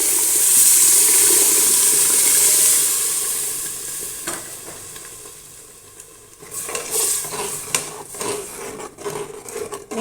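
Tomatoes pour into a pan of sautéed garlic: a loud sizzle burst that softens, followed by wooden spoon stirring and scraping clatter against the pan.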